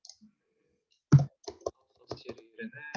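Keys tapped on a computer keyboard while entering a tag in SCADA software: a few sharp, irregular clicks in a quiet room, with someone speaking softly near the end.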